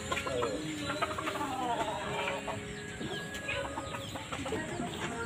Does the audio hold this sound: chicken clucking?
yes